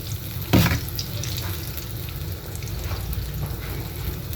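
Butter melting and sizzling in a pan for garlic butter shrimp: a steady, soft frying hiss carries throughout, with a brief louder clatter near the start.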